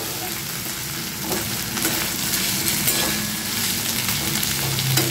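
Bread pieces frying in hot oil for bread bhelpuri give a steady, dense sizzle close by, with light stirring scrapes over it and no voices.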